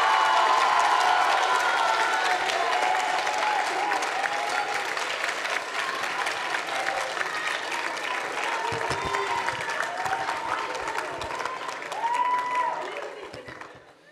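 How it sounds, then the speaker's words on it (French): A thunder of applause for the mayor of Montreuil at a high school eloquence contest, dense and sustained across a large crowd with scattered cheers and whoops, fading out at the end. "S'il vous plaît, un tonnerre d'applaudissements pour le maire de Montreuil"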